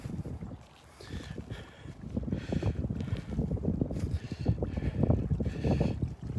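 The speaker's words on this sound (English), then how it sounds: "The breeze is blowing out here, coming out of the east, facing into the wind right here." Steady wind gusts across the microphone on a beach at Delnor-Wiggins, facing into an easterly breeze, with low rumbling buffeting that swells and fades continuously and no talking.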